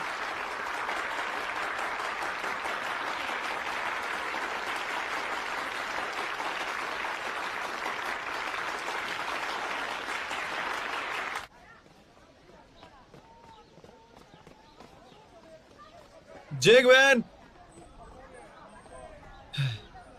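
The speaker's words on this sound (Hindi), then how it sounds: "इनके लिए तालियां हो जाएं।" A crowd applauds the winners of a debate tournament, a steady wash of clapping for about eleven seconds that cuts off abruptly into near silence, followed by a brief voice.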